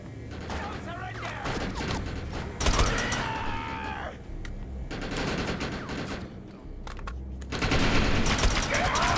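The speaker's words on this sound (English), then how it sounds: "I have a bad habit of reloading every time I shoot." Bursts of automatic gunfire and mechanical reloading clicks in the sci-fi shooter Defiance, rapid volleys separated by short gaps, loud and close, with a voice speaking over parts of the action.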